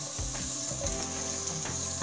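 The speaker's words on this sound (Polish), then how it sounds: "Teraz wrzucam cebulkę i będę ją chwilę smażyć." Steady, close sizzling of onion frying in hot coconut oil, with a few soft stirring scrapes breaking through the crackle.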